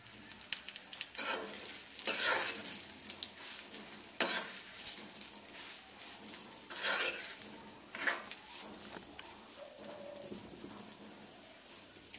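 Tamarind frying in a pan, a steady low sizzle broken by several louder scraping stirs and utensil knocks against the pan at irregular intervals, close by, with no one talking.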